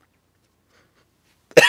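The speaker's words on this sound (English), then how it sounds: "Excuse me for coughing." A single sharp cough comes from a man after near silence, brief and close to the microphone.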